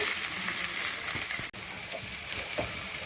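Onions fry in hot oil for a tempering, giving a continuous close sizzle with soft spattering pops and a brief clatter partway through.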